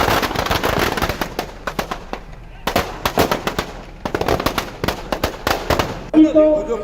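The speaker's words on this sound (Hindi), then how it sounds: "उरई से आए कलाकारों ने यहां पर शानदार आतिशबाजी भी की।" Fireworks set off by performers at an outdoor Dussehra celebration in Madhya Pradesh, rapid crackling bursts and sharp bangs in quick salvos with a brief lull midway, loud and close.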